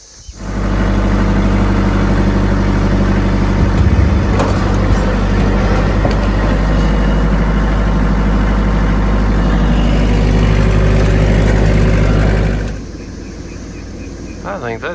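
A clutch tractor engine runs loud and close with a low steady drone while moving a structure on a bee farm, holding for about twelve seconds before dropping to a quieter idle.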